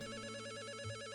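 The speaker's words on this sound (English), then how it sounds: "The phone." A telephone rings in the mystery video game Return to Shironagasu Island, a steady electronic trill sounding clearly for about a second on its own.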